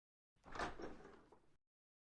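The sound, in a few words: door opening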